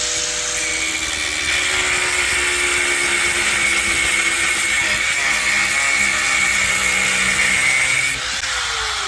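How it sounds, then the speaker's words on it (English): An angle grinder cuts through a riveted stock-style chain on a 2009-2012 Kawasaki ZX6R, a loud continuous high-pitched whine and grinding held close for the whole stretch, dropping slightly near the end. "it is riveted on, and so we have to break it, and we will use a angle grinder."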